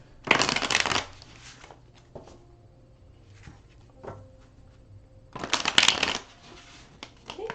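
A tarot card deck handled and shuffled, with two loud bursts of riffling cards, soft taps and slides of cards in between, close and clear, no talk.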